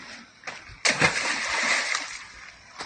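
A sharp splash as a stone hits a shallow puddle, followed by a lingering slosh and spatter, with faint voices around it.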